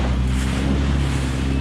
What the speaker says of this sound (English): Big wave. I don't want to get wet.